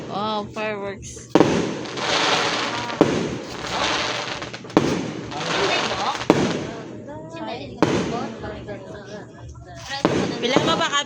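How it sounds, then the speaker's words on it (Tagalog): Fireworks burst at a barangay fiesta in Aguisan, a series of sharp pops and booms spaced a second or two apart, with excited voices shouting and talking between and over the blasts. "Wow, fireworks."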